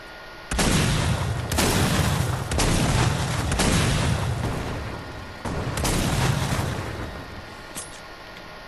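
Repeated heavy booms from an RPG rocket in Fortnite, a run of loud broadband blasts with rumbling tails, several hits in quick succession over a steady game background, no talk.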